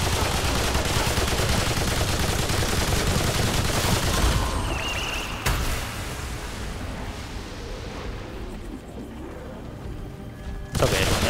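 Continuous dense crackle of rapid distant gunfire in the video game Remnant 2, like a sustained battle, thinning slightly toward the end before a sudden burst.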